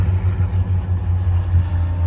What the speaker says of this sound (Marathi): तर बघा रेल्वे चालले